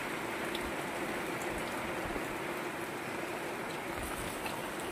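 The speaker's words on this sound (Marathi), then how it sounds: "खूप जोरात पाऊस आलेला आहे" Heavy rain falls in Mokhada as a continuous, even hiss of drops, steady and unbroken throughout, with no voices.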